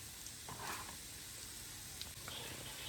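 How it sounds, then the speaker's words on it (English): Pork ribs searing in a pan for Vietnamese braised pork, a quiet, steady sizzle and crackle of frying meat with a few faint stirring sounds and no talking. "I put in a pan and I cook for a few minutes until I get a little char"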